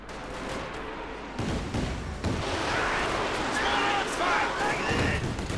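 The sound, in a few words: Katyusha rocket artillery firing in video game Company of Heroes 2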